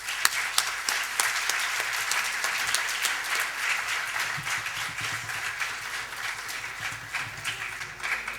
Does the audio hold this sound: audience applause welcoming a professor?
yes